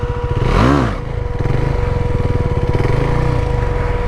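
A KTM Duke 390 motorcycle engine revs hard, swelling in a sharp rise and fall as the clutch is dumped, then settles into a steady loud drone close by.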